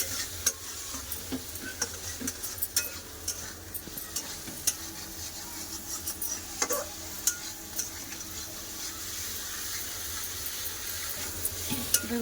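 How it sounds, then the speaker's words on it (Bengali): Fried potatoes stirred with spices in a pan for an egg and potato curry, a faint low sizzle under intermittent scraping and clinking from the utensil against the pan, with no talking. "এবার আলু মশলার সাথে খুব ভালো করে কষে নেবো"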